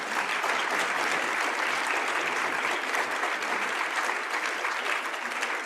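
An audience at a film screening and debate gives the film's author a sustained round of applause, with dense, even clapping throughout.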